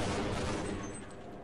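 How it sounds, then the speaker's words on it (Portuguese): Grenade explosion in the video game Half-Life, a brief loud rumbling blast heard close, with gunfire-like crackle that fades over a second and a half. "Tacou granada."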